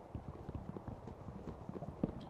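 Horse hooves clip-clop in the NaturaCraft video game, a steady series of soft hoof beats on the ground, faint and somewhat distant, with no voices over them.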